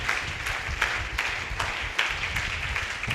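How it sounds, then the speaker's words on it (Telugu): A church congregation at a Sunday worship service claps in a loose rhythmic pattern, moderately loud beats recurring roughly every third of a second over a low background rumble. "అర్థమైన వాళ్ళు చప్పట్లు కొట్టి ప్రభువును మహింపరచండి"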